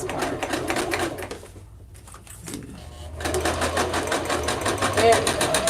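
A sewing machine runs steady top stitching through a bag and its lining, a close, fast rhythmic clatter that pauses briefly midway and then resumes, with people talking over it.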